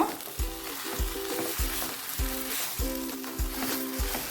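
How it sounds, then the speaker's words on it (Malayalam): A banana and rava snack mixture with cardamom powder sizzles gently in a pan while a spoon stirs it, giving steady rhythmic scraping strokes about every half second over a constant soft frying hiss, close and clear. "ഇനി നന്നായിട്ട് ഇളക്കി യോജിപ്പിക്കുക"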